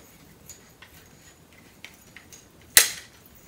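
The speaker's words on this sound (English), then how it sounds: "rack the slide, and it's ready to go" One sharp, bright metallic snap from racking the slide of a Glock pistol, close and loud against quiet background noise.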